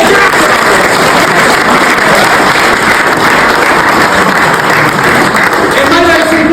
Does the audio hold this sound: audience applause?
yes